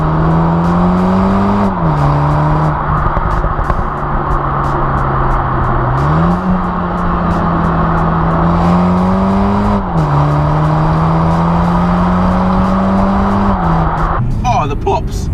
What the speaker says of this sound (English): The pops are a lot louder. It pops much louder than my E89 Z4.